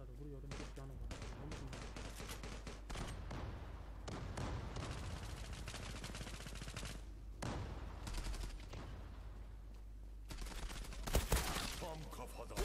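Gunfire in the online shooter Zula fires in dense, rapid volleys of automatic shots that run almost continuously for several seconds, with a louder burst near the end and a voice speaking over it.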